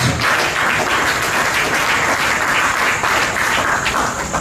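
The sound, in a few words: audience clapping for basketball players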